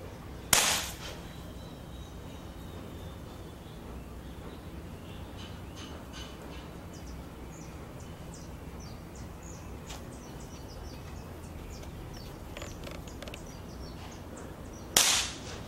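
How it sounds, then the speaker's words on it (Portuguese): Two sharp, loud pops from a small low-power firecracker, one near the start and one near the end, separated by a long stretch of quiet outdoor ambience with faint distant bird calls. "Essa é uma bombinha de baixa potência, ela não é muito forte, então eu vou estourar ela."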